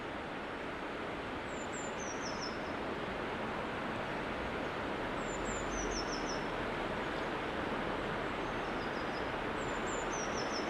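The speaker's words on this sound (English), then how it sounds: "there's a blue tit up there calling" Blue tit calling from up in the trees beside a river, a few short high chirping phrases repeating every few seconds, faint above a steady wash of flowing water and wind.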